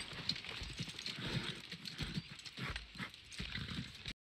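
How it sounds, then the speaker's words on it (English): Horse hooves clip-clopping in a Game of Thrones scene, a steady run of close, regular hoof strikes over soft outdoor ambience, cut off abruptly at the end. "It's a horse, my dude."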